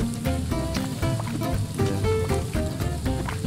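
Meat frying in the Overcooked video game, a steady bright sizzle running throughout under busy game music with plinking notes, fairly loud and continuous.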